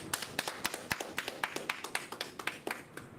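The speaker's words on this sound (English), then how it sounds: "Clap it up, clap it up, clap it up." Rhythmic hand claps, about six per second, sharp and close, with no talking.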